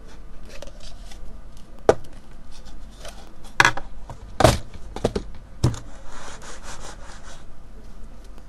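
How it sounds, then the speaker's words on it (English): Cups are shuffled around on a table during a close-up magic trick: soft scraping and rubbing, broken by several sharp, loud knocks and clacks at irregular moments, with no talking. "I'm just going to mix up the cups."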